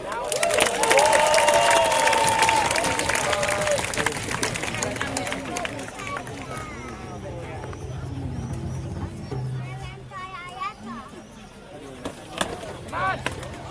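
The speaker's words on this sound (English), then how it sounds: "Big applause!" A large crowd at a gladiator fight show in Pula claps and cheers loudly, the roar fading gradually into excited chatter and scattered shouts.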